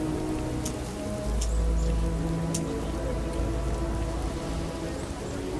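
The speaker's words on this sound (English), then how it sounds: "you can actually hear the rain in the gutters and stuff" Rain pattering into gutters in Starfield, a steady, fairly loud wash of falling drops with a low rumble beneath and occasional brighter drips.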